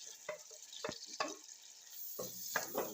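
Chopped onion hitting a pan of hot oil with garlic while cooking mussels, giving a soft sizzle with bursts of stirring and scraping over a steady frying hiss, close and moderately loud, with no talk.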